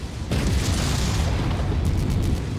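A missile blast in MechWarrior 5 breaks in suddenly after a brief lull, then a heavy, loud rumbling explosion rolls on and slowly fades without any speech.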